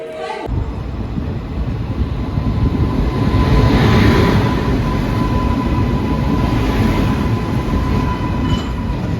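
A train rumbles loudly and steadily at Salem railway station, heavy rolling noise with faint squeals, swelling midway and staying strong throughout.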